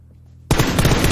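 A sudden burst of rapid, punchy gunfire from the video game PUBG erupts after a half-second of near silence and continues loudly.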